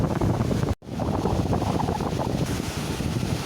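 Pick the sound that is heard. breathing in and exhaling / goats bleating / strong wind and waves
strong wind and waves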